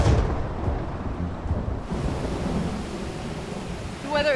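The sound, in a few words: thunder and heavy rain in a jungle valley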